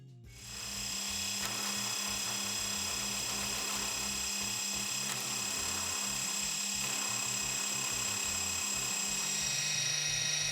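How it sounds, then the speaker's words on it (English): Steady, loud whine of a milling machine plunging an end mill straight down to cut a flat-bottomed counterbore, with a constant high-pitched tone and low hum running continuously with no pauses. "So I'll plunge an end mill straight down and give me a nice flat bottom, and a counterbore to boot."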